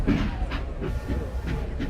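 Train sound effect with rhythmic clickety-clack of wheels over rail joints and a steady rumbling rolling noise, fairly loud and continuous.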